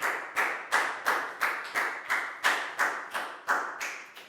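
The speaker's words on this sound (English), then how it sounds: "High five and a big round of applause for Pak Bung." A Year 4 English class claps for a pupil in a steady, rhythmic beat, about a dozen sharp, evenly spaced claps in unison, close and crisp with no talking over them.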